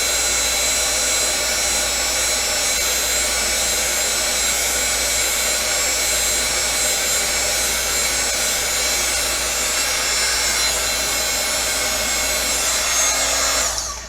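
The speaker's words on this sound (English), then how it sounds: "we're going to bring the heat tool back out again" Heat embossing tool blowing hot air over a stamped Valentine card, a steady, loud, continuous whooshing hum like a small hair dryer that runs unbroken for the whole stretch, then cuts off at the very end.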